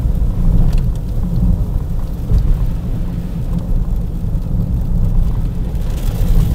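Heavy rain pours down hard and steadily, with low rumbling thunder rolling beneath it throughout, loud and close with no voices.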